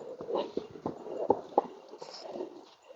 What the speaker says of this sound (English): Oh, that's a big canter.